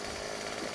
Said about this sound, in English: let's get the chainsaw out